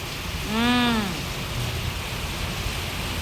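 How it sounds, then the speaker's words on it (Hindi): Heavy rain makes a steady, dense hiss throughout, with a brief rising-and-falling tonal whoop near the start. "भारी बारिश होवत थे।"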